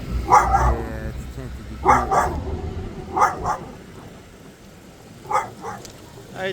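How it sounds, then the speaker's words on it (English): A dog barks outside a dispensary in Lakehurst, NJ, giving several loud, close single woofs spaced a second or two apart, with a person talking quietly underneath. "Hi, doggy."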